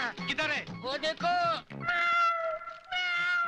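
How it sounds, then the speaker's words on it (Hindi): A cat meows in several drawn-out, wavering cries mixed with people talking over and between them, fairly close, in a village movie scene. "अरे वो तो बिल्ली है, शेर नहीं है।"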